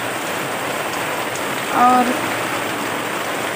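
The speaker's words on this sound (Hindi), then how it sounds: "बारिश हमारे यहाँ बहुत ज़्यादा तेज़ हो रही है" Heavy rain falls steadily in a broad, continuous hiss, with a brief spoken word over it partway through.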